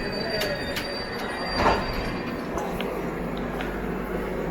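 The 16315 Mysuru–Kochuveli Express rolls through Bangarapet station with a steady rail rumble, faint clicking and one brief rising wheel squeal midway.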